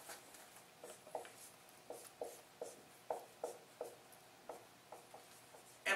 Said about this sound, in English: Now let's write down one more structure.